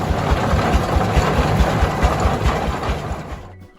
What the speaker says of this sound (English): once the engine roars, the OilPull will operate smoothly, ready to plow the vast fields